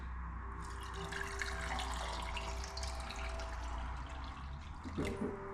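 Water runs steadily from a refrigerator dispenser into a container in a home kitchen where eggs are being canned, a continuous close splashing flow with a faint tone under it.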